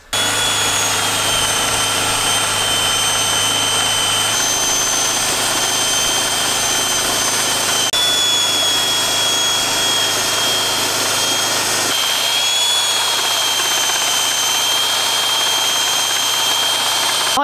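A power sander working on wooden beams at a stone tiny-home build in Portugal, a loud steady mechanical whine and drone running continuously, with slight shifts in tone partway through.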